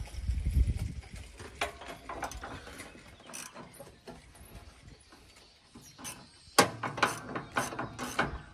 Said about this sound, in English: So let's go in the top, remove the 3/8 bolt.